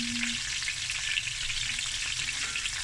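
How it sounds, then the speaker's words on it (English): Snoek fish fries skin side down in a pan until crispy, giving a dense, even, hissing sizzle that holds steady and loud throughout, heard close with no voices. "just let the fish go, the skin side a little bit more, because Opa likes his fish crispy"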